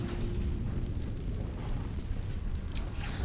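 A blast spell in the video game Baldur's Gate 3 explodes as a sustained deep roaring rumble, loud and dense for the full length, with a brief crackling burst near the end.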